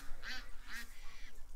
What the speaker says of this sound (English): There's all the ducks.